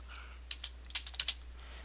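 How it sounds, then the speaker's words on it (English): Fingers type code on a computer keyboard, a quick irregular run of light clicking keystrokes with a few sharper taps, close and fairly quiet over a low steady hum, with no one speaking. "Tons of typing, I know."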